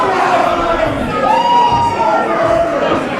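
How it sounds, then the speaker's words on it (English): A wrestling crowd at an independent show cheers loudly and continuously, with shouts and whoops rising above the dense roar of the audience. "But the crowd's loving this new intensity in Psycho Mike."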